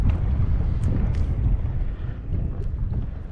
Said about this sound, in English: here's the wind change.